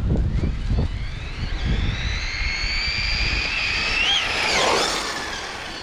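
A New For 2021 V5 Arrma Typhon 6S RC car speeds along a driveway, its electric motor rising into a high, sweeping whine that climbs in pitch and peaks near four seconds before fading, with wind noise and no talk.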